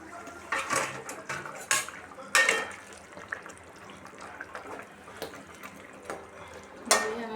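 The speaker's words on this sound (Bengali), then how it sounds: "এখন আমি মাছগুলো দিয়ে দিব।" Pangas fish heads tumble into a cooking pot with water for a fish-head rice dish, giving scattered wet clatters and sloshes with a few sharper knocks against the pot, fairly close by.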